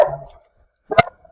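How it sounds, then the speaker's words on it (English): A pet dog in a home barks once, loud and close, after a fading tail of earlier sound and a stretch of near silence. "That's just my dog. It's fine."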